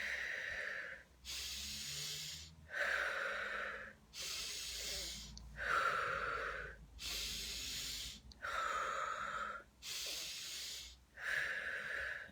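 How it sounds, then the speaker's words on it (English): Deep, forceful breaths drawn in and pushed out in a steady rhythm, eight strong breathy bursts roughly every one and a half seconds, close and loud with no talking. "so breathing in"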